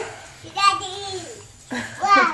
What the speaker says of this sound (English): So you can hear my son in the background.